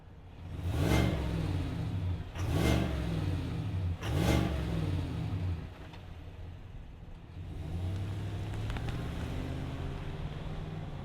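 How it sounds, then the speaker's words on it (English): 2025 GMC Yukon XL Elevation V8 idling loudly up close, blipped through three sharp revs in quick succession before settling into a steady, slightly lower rumble. "it also has a V8 underneath the hood. Let's fire it up and hear what it sounds like"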